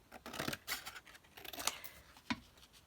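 Scissors snip and slide through printed paper, trimming off an unprinted border in several quick, close cuts with short pauses between, fairly quiet and without talk.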